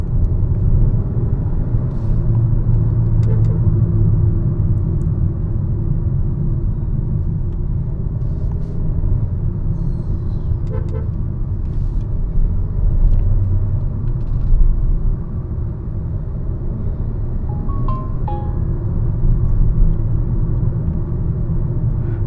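A 2026 Kia Seltos with the 1.5L turbo engine driving in sport mode, heard from inside the cabin as a steady, loud low road and engine rumble with a few faint clicks on top and no talk.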